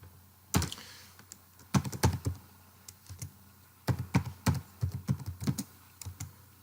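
Someone types on a computer keyboard nearby, a run of quick, uneven key clacks in short bursts with brief pauses between them. No one speaks.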